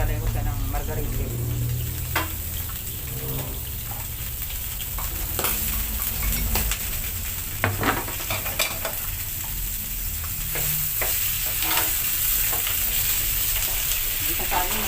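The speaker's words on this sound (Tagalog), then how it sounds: "Naka-fry natin siya sa konting mantika" Food frying in a small amount of oil with margarine, a steady crackling sizzle with occasional stirring scrapes running throughout, fairly close and even in level.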